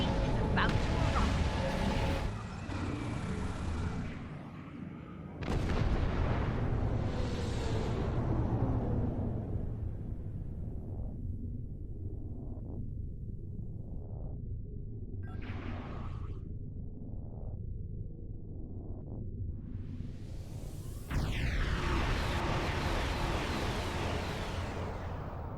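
A starship torpedo volley and explosions in a Star Trek Online space battle, with a sequence of booming bursts and whooshing launches over a continuous low rumble, while voices talk over the action.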